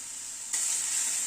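Crushed garlic sizzles and crackles in hot oil in a pan, a steady bright hiss that jumps louder halfway through as it is stirred, with no talking.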